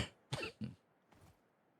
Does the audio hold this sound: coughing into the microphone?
yes